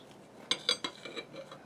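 A bread knife saws through a sourdough English muffin in a few quick, crisp rasping strokes close by, with a brief scrape of the blade at the end and no talking.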